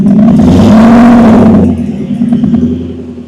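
A car with a straight-dump exhaust pulls away at a cars and coffee meet, its loud raspy engine note rising briefly and then easing off as it moves away.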